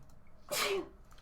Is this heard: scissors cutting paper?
no